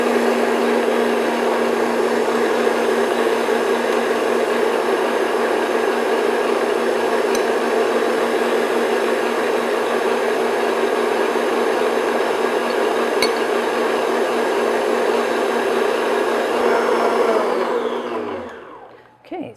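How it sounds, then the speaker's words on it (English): An electric mixer beats meringue on high speed for Eton mess, a loud, steady motor whine that runs unbroken for about eighteen seconds before winding down and stopping. "We're going to beat it on high speed and gradually add our sugar."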